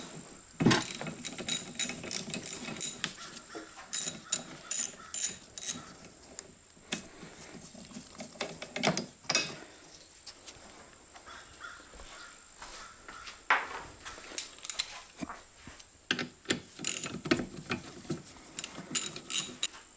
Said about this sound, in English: Just take these two bolts out here. Just to let you know, these are a 1/2 inch.